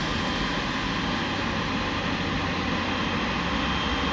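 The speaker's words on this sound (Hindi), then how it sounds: "एंड ये जो दो GE90 लग रहे हैं भाई, मोस्ट पावरफुल इंजन" A Turkish Airlines Boeing 777-300ER with two GE90 jet engines gives a loud, steady broadband roar at an airport, close and unbroken throughout, with no voices.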